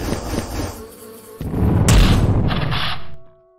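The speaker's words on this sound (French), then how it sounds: "Alors, les bombes d'acide sont des abeilles." A buzzing swarm of bees from an acid bomb attack in the video game Halcyon 6: Starbase Commander swells into a loud, dense drone, then cuts off abruptly into quiet.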